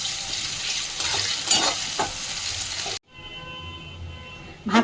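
Sliced onions sizzle and crackle as they fry in hot oil for egg biryani, with stirring scrapes. After a sudden cut comes a quieter stretch and a brief clatter at the end.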